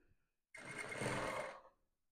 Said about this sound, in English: I'm going to sew up the shoulders closed.